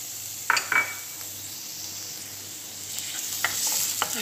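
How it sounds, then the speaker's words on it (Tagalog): Garlic stirred as it fries in a hot pan: a constant soft sizzle punctuated by a few sharp utensil clinks against the pan, near and with no talking. "Haluin na natin para maging golden siya."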